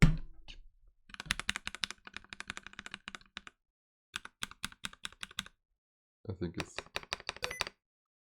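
Close-up bursts of typing on a Keychron K8 Pro mechanical keyboard, crisp clacky keystrokes in quick runs separated by pauses, with a brief voice at the start.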